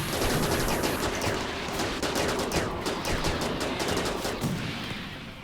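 Gunfire in a RimWorld video game battle, dense rapid bursts of overlapping shots that rattle continuously at high volume and then ease slightly toward the end, with no speech over them.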